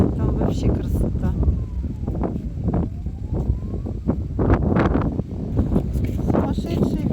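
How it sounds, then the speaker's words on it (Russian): Strong squall wind batters the microphone outdoors beside the Dnieper in Kyiv, a loud, continuous low roar with repeated gusty bursts and rustling, blowing sand mixed in. "Сумасшедший ветер, да."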